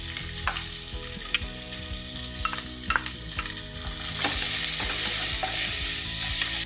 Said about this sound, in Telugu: ఉల్లిపాయలు మంచి కలర్ వచ్చేంత వరకు ఫ్రై చేయాలి